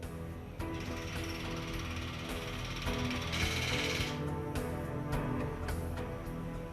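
Workers tightening bolts on a drilling tower, loud continuous metallic ratcheting and clanking from machinery with sharp impacts, a busy industrial din throughout.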